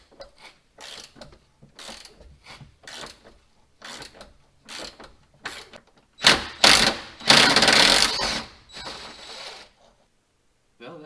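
Ratchet wrench cranking out the 13mm upper bolts of a Jeep rear air shock in a garage, bursts of rapid clicking pawl strokes with pauses between, building to longer, louder ratcheting runs near the end.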